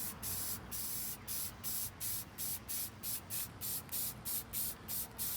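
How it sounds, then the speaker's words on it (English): Spray paint hissing onto cardboard in repeated short bursts, about a dozen even pulses with brief gaps between them, close and steady with no talking. "we're literally just gonna spray paint our cardboard aided design"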